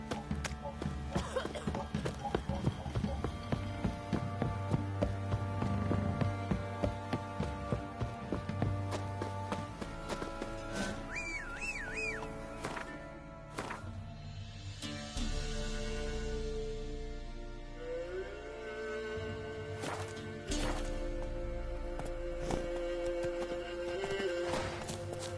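The horse Roach gallops in a video game, a fast run of rhythmic hoofbeats beating steadily over layered game music and ambience, with brief vocal sounds along the way.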